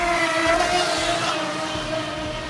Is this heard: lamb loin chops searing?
no